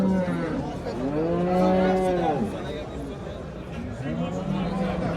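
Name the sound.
cow mooing at a cattle market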